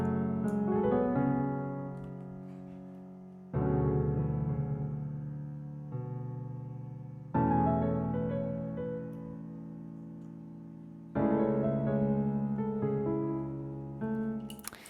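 A melody played on an SRX keyboard in a piano sound, with sustained chords struck in four groups, each decaying slowly before the next, soft and alone with no talk.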